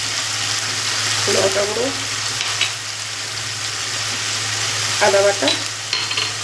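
Spice paste of onion, tomato, ground cashew, poppy seed and melon seed, with chili powder and ginger paste, fries in oil for a pointed gourd curry. A loud continuous sizzle carries repeated stirring scrapes, and someone speaks briefly over it.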